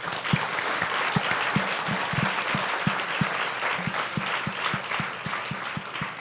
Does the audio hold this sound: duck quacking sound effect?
no